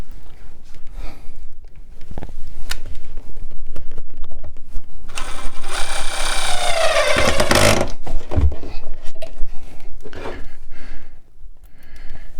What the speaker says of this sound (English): We're gonna go ahead and secure one screw into the cabinet.